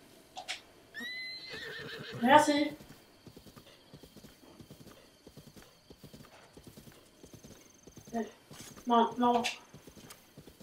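A horse in the video game Zelda Breath of the Wild neighs twice over a steady patter of hoof clip-clops; a voice speaks briefly.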